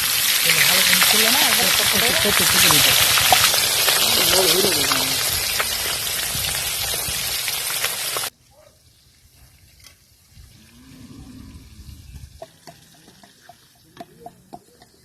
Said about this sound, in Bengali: এখন মাছ ভাজাভাজি করছে আমাদের মাসুম